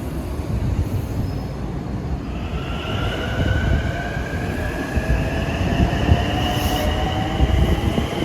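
An LIRR M9 commuter train passing on a busy triple-track mainline at twilight, a steady loud rumble of wheels on rails with rising tonal whine and faint squeal, heard from trackside without voices.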